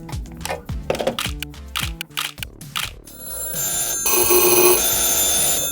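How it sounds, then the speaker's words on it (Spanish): A black telephone rings loudly at close range in a live recording session in Bogotá, first in sharp repeated bursts, then in a sustained, shimmering bell tone that swells toward the end, with no talk over it. "Teléfono negro, a ver."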